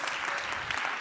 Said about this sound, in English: Can I get a warm applause and a big yell for both of them?